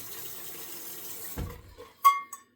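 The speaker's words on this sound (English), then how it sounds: "Excuse the water." Water runs from a household tap, a soft steady stream that cuts off abruptly, followed by a few brief clanks and splashes near a sink, close by with no talking.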